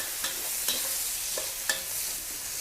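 Dried shrimp and crushed garlic are stir-fried in a hot pan, with a bright, hissing sizzle broken by a few quick spatula scrapes, close by and fairly quiet, with no speech.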